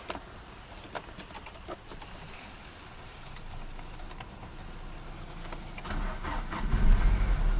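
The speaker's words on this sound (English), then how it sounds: "So let's start the car." A used Peugeot 406 with a weak battery cranks and catches, its engine rumble building toward the end, with birds chirping in the background.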